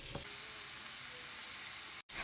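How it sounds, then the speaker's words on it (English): Beef sausages and boiled potatoes fry in a saucepan, giving a continuous, fairly quiet sizzle with a momentary dropout near the end. "Keep frying until the potatoes are turning into a bit brown color."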